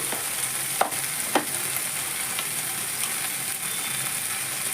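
Tomato pieces with turmeric frying in onion paste in a pan for a crab curry, giving a steady close sizzle with two sharp clinks of a utensil early on, no voices.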